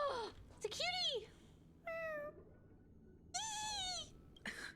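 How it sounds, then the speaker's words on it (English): A cat in a video game meows several times, with high, rising-and-falling cries separated by short pauses, fairly clear and close, with faint background sounds in between. "It actually meows."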